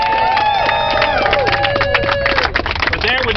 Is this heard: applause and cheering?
yes